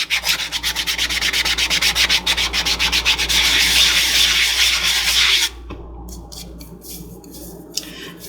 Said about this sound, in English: take the sanding block and again, go around the rim really well